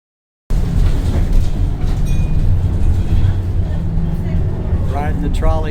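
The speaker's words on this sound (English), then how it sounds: "Riding the trolley in Durango." A trolley ride in Durango, Colorado: a continuous low rumble and rattle of the moving vehicle from inside, with people talking over it.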